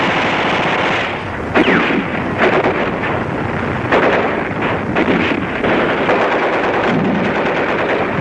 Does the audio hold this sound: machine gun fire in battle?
yes